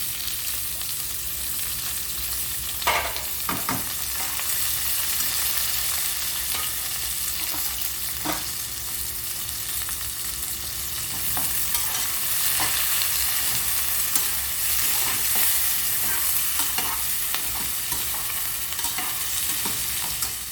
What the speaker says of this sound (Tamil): வெங்காயம் போட்டு கொஞ்சம் நல்லா பொன்னிறமாக வதக்கிக்கணும்.